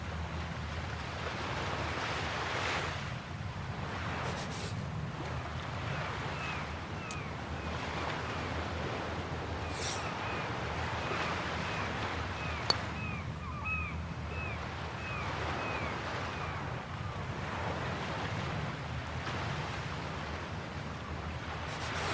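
Ocean surf breaking steadily along the Pacific coast beside a golf green, a continuous broad wash of waves with some wind noise, heard from a moderate distance with no talking.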